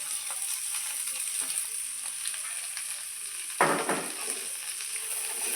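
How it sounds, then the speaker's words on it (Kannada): Tomato and coriander leaves fry in a pan for an egg and chicken sambar, giving a steady close sizzle with a sharper crackling burst midway as the pan is stirred, with no voices. "ಸ್ವಲ್ಪ ಫ್ರೈ ಆಗಬೇಕು"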